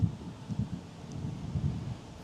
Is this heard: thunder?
yes